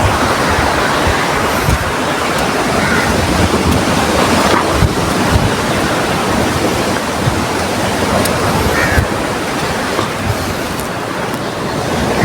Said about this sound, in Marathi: म्हणजे लाटा बघा किती फुटत आहेत मोठे मोठे.